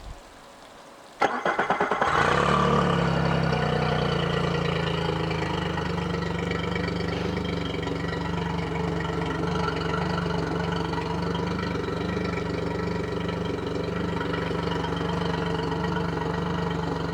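After a brief cranking sound, a 2022 Yamaha F40LA tiller outboard boat motor catches and settles into a steady, even idle that hums on without pause.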